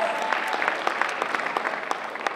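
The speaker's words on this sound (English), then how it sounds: "Round of applause for them." A high school audience claps steadily, a dense patter of applause filling the whole moment, fairly close with no voices standing out.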